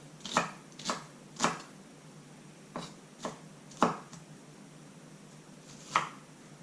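A knife slicing food on a cutting board for tacos, giving about eight separate close, crisp chops at an uneven pace against a quiet background.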